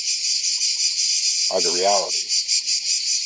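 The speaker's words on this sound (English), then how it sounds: "And so that's why all these crickets" Crickets chirp at sunset in Tbilisi, Georgia, a dense, steady pulsing trill that carries through the whole stretch while someone speaks briefly over it.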